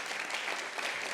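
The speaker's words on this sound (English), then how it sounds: "Just clap your hands. Clap your hands." Festival audience members at a talk clap their hands in a brief burst of dense, steady applause. The clapping is moderately loud and continuous.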